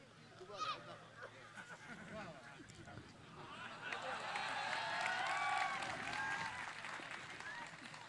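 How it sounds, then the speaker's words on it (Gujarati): An audience at a Gujarati gathering in Rajkot claps in response, the applause swelling from scattered claps into a fuller, sustained round in the second half, with talk and crowd murmur underneath at fairly low level. "વધાવો તાળીઓથી."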